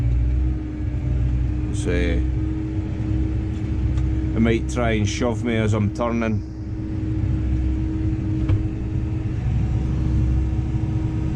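A New Holland T7030 tractor spreading dung runs a steady low engine drone with a tonal hum throughout, loud and close, while someone speaks briefly over it.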